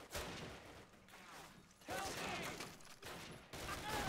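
Kar 98K rifle fire in a Call of Duty game rings out in several sharp bursts spaced a second or two apart, fairly quiet overall, with a crackling battlefield din between shots.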